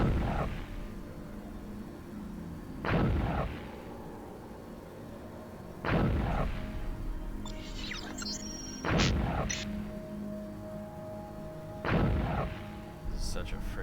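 Gunfire from a weapon in the stealth video game Hitman Freelancer: five loud, sharp shots spaced about three seconds apart, each with a booming tail, over a low ambient game hum with brief electronic beeps between shots.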